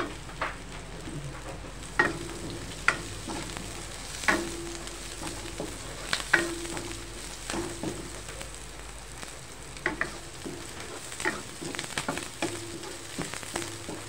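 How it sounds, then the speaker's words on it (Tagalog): Steady sizzling of onions sautéing in a pan, with a spatula scraping and stirring every couple of seconds, close up and continuous. "Dito natin piniili ang sibuyas."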